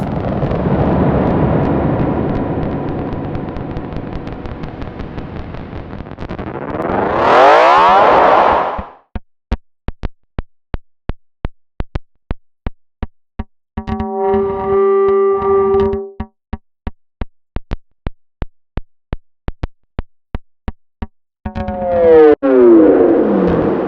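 Harsh distorted effects made in Ableton Live with high feedback swell and sweep, then break into a rapid train of echoing clicks and a buzzing tonal burst, ending in another roaring feedback sweep.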